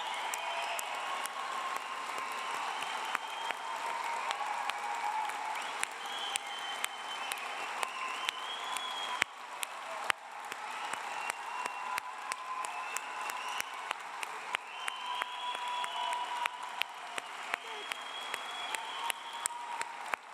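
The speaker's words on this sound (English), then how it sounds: "round of applause." Large indoor audience at a Manchester university degree ceremony applauding its graduates, a steady wash of dense clapping sustained for about twenty seconds with occasional sharper claps standing out and no talk over it.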